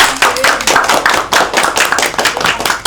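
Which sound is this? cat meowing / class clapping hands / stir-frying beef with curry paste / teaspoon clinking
class clapping hands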